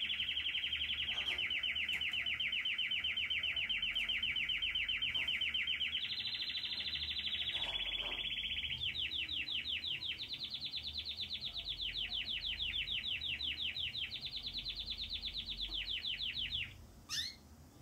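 A Belgian canary chick gives a continuous high, rapid trilling chirp, close and clear, shifting pitch in stretches before stopping abruptly near the end.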